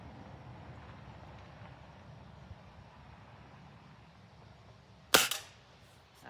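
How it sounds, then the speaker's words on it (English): A Beeman 1022 dual-caliber spring-piston air rifle fires a single sharp shot with a short metallic twang, standing out clearly against quiet outdoor wind noise. "For a Springer, it's typical twang."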